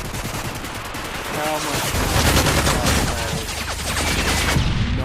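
Rapid gunfire crackles in loud bursts in Modern Warfare 3, shots firing from the hip, while a voice talks briefly over the shooting.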